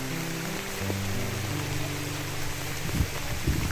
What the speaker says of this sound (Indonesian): Hujan terus hujan.